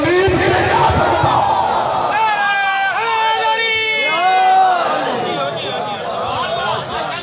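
A large crowd at a Majalis religious gathering in Lodhran in 2021 chants the slogan Nara-e-Takbeer, with many voices rising loudly together in sustained calls and a dense murmur of babble underneath.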